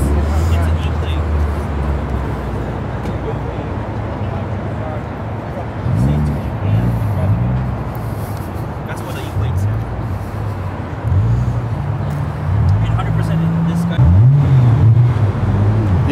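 Cars driving past at Daikoku parking area in Tokyo, engines rumbling and revving repeatedly in low bursts as vehicles come down, with people talking over them.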